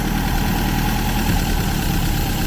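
An engine with twin carburetors idles steadily after adjustment, a loud, close, continuous low rumble with even vibration and no talk.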